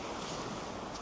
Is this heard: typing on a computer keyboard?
no